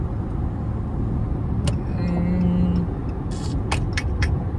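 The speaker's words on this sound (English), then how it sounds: "Nah, there's too much traffic." Road traffic heard from inside a moving Dodge Charger SXT: a steady engine and tire rumble runs throughout, with a few sharp clicks and brief higher noises from passing vehicles, and no talk.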